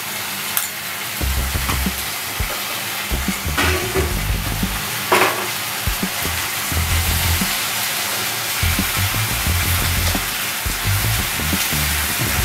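Onion paste sizzles and fries in a pan with fried eggs and golden garlic for a Bengali dry egg curry, with steady frying hiss broken by repeated spoon stirs and scrapes against the pan.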